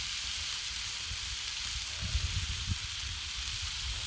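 Sausages sizzle steadily in oil on a Blackstone griddle, a loud, continuous hiss with small crackles and pops close by.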